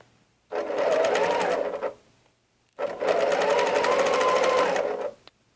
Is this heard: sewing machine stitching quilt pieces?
yes